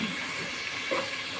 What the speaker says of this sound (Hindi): हम फ्राई कर लेंगे लहसुन को ताकि लहसुन की स्मेल ख़त्म हो जाए